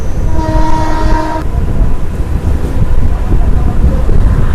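A passenger train near Ranaghat sounds a long, loud horn blast, then runs on with heavy, steady rumble and rattling wheels close by, with no talk over it.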